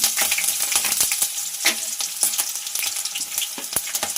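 Mustard seeds, green chilies, chana dal and urad dal sizzle loudly in hot oil for curd poha, a close, dense crackle with sharp popping bursts throughout and no voices.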